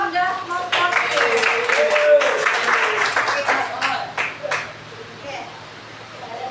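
An audience of students and staff in a school session claps in brisk, scattered bursts that build and then fade, with a few voices and chatter mixed in toward the end.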